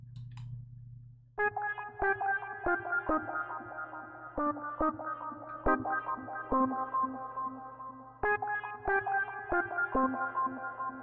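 A synth run through the Écruos multi-tap delay effect in Reason, playing rhythmic plucked notes that repeat as echoing, moving taps with a loud, steady groove and a short pause midway, with no voices.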